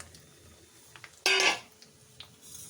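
Dal poured into a pan of frying cumin seeds, a single brief close clatter and sizzle against the metal, with faint ticks and clinks around it.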